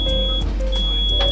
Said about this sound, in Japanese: アラームが鳴っております。